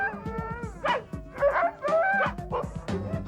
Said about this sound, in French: Avant de partir, il faut attacher les chiens au traîneau.